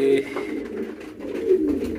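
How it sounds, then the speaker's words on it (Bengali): Soft King pigeon cooing, a couple of low burbling calls close by, with some faint background noise. "আমাদের কিং কবুতরটা বাইরে বের হয়েছে"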